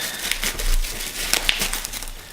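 Tiny iPhone-style packaging being cut open, heard as close, steady crinkling and scraping with a few sharper cracks over a couple of seconds.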